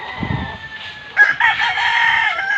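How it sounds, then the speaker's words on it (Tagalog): Rooster crowing near a backyard flock of chickens kept beside an outdoor lechon roast, a long drawn-out cock-a-doodle-doo rising and wavering over softer clucking, with no talk. "Ayan mga manok ko mga kaibigan"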